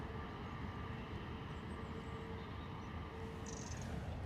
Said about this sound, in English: Got a lone EasyJet taxiing over here.